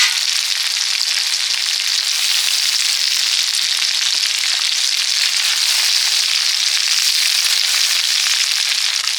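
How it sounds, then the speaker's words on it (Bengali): Lentils fry in a pot with onions for khichuri, a loud, dense, unbroken sizzling hiss that stays close and even throughout. "এবারে ডাল দিয়ে দিচ্ছি"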